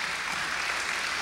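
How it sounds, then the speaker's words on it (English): An audience claps for a panel of composers just introduced on stage, a steady dense wash of many hands, loud and continuous throughout with no voices standing out. "yes, you can clap."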